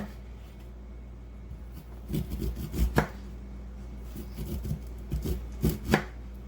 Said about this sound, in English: I am just going to keep turning it and slicing it down the corn next to the hard part